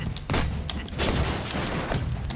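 Gunfire and grenade blasts in the video game Broforce, a burst of rapid shots and booms that fill the short stretch, loud and continuous with no talk.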